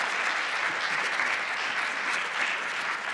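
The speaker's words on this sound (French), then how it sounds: "je souhaiterais qu'on les applaudisse" An audience at a panel discussion for a national dyslexia awareness day applauds, a steady, moderately distant wash of many hands clapping throughout.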